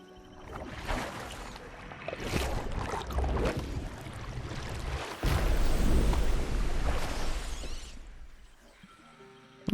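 In the video game RuneScape Dragonwilds, water effects make a broad splashing and rushing wash that swells twice, loud and close, before cutting off near the end.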